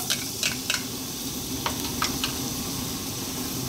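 Whole chili and garlic frying in oil in a wok, a steady broadband sizzle with a few sharp spatters and clicks, close and moderately loud, with no voices.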